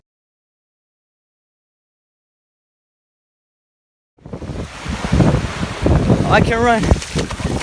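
Wind and surf on a beach burst in after about four seconds of silence, a steady broadband rush that carries on to the end beneath a person talking.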